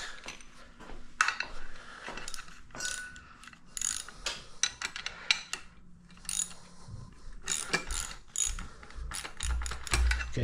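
A ratchet wrench works the head bolts on a 1931 Model A Ford engine, giving close, rapid clicking bursts in irregular spurts with short pauses, interspersed with metallic tool clatter.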